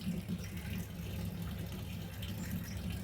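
Homemade rice-water and buttermilk fertilizer poured from a container onto a potted aloe vera plant makes a steady, continuous splashing trickle at moderate level throughout, with no talking.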